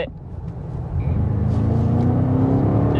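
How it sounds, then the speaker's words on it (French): BMW M5 accelerating hard, a deep engine roar building in loudness and pitch from inside the car, steady and rising over about three seconds. "Et quand on accélère,"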